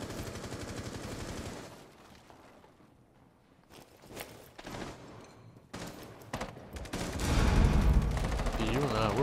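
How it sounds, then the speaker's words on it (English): Gunfire in the video game Rainbow Six Siege hitting a player's shield: rapid bursts of shots and impacts come in clusters with quieter gaps and footsteps, ending in a loud sustained barrage. "They're just shooting at my shield."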